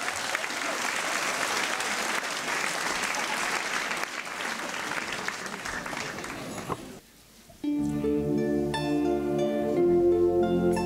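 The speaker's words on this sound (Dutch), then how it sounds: "Dames en heren, mag ik een hartelijk applaus voor Yannick Schuurmans!" Festival audience applauds a singer at a Frisian song contest, a dense steady roar of clapping for about seven seconds before it cuts off and music begins.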